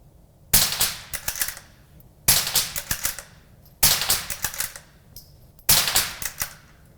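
Four bursts of suppressed gunfire through a SilencerCo Switchback suppressor in its default configuration, each a rapid string of several sharp, loud cracks, separated by short quiet gaps.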